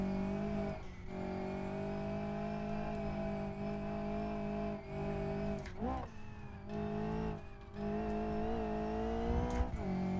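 Engine of an Ibishu 200BX race car in the BeamNG driving game, droning loudly and continuously at high revs with brief dips for gear shifts and a short tire squeal.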